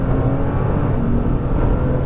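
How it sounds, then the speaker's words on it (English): A Nissan GT-R engine pulls hard at full throttle on track, a steady dense roar that holds loud and close for about two seconds with no voices over it. "As you unwind, more throttle, full throttle when you're straight."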